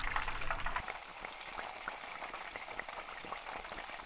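Breaded chicken katsu frying in hot oil, a steady crackling sizzle with scattered pops, moderately loud and continuous with no voices.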